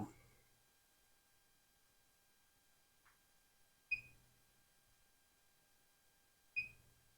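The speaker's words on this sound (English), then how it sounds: "The little beep lets you know that it's touched off" A digital readout edge-finder touch probe on a knee mill gives two short, sharp electronic beeps about three seconds apart as it touches off the part, clear against a quiet shop background.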